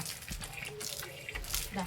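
Water gushing from a hose for washing feet, a steady close splashing flow with a voice talking over it.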